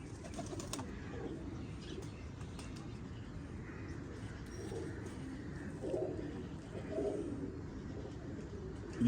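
Pigeons kept by a pigeon fancier coo softly in a steady, busy ambience, with a couple of slightly louder coos near the end and brief wing flutters.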